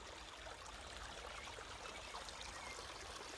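A forest stream flows steadily, its soft broadband rush and trickle continuous and fairly faint, with no voices over it.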